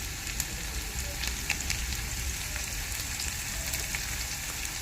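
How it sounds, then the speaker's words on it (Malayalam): Chopped onions and curry leaves sizzling in hot coconut oil, a steady, fairly faint crackling fry with tiny pops scattered through it and no voices. "ഇനി ഇതിലേക്ക് നമ്മൾ അരിഞ്ഞ് വെച്ചിട്ടുള്ള ഉള്ളിയും കറിവേപ്പിലും ഇട്ട് കൊടുക്കുക."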